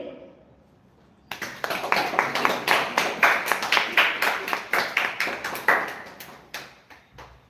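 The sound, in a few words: audience clapping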